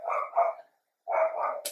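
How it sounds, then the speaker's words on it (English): A dog barks in a few short bursts, fairly faint, with a brief pause between them. "Oh, the dog is hungry."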